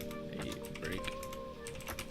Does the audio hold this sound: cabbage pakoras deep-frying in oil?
no